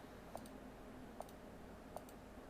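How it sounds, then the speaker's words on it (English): Taps on a virtual on-screen keyboard in tablet mode produce three faint, sharp clicks spaced evenly apart over a quiet background, with no speech. "if I change quickly to tablet mode and I open up a virtual keyboard, you can see I can actually type now"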